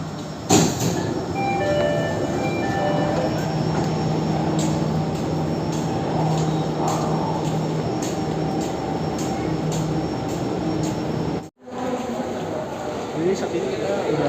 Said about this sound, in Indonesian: Dari sini kita akan pergi ke stasiun Duku Atas menggunakan kereta ini